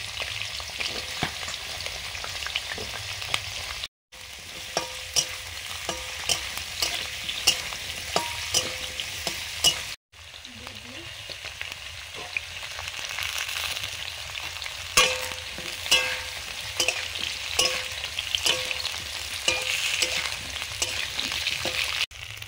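Potatoes fry in hot oil with black cumin seeds: a loud, continuous close sizzle with rapid repeated stirring clicks, broken by two brief silent cuts, and no voices.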